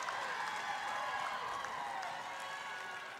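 Basketball crowd at a semi-final game cheering and applauding, a steady wash of clapping and voices at constant level throughout.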